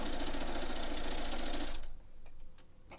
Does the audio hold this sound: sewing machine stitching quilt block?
yes